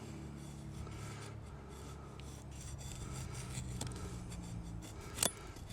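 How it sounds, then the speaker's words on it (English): Steady rasping scrape of a Ka-Bar Becker BK20 knife shaving wood, continuous and fairly quiet at close range, with a sharp click or snap near the end. "This does really nice shavings though."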